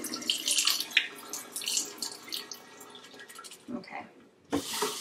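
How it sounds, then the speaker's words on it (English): Jasmine rice rinsed under a running tap, water splashing and swishing through the grains in a container, close and uneven, ending with a fresh gush of water. "I like to go ahead and rinse my rice off"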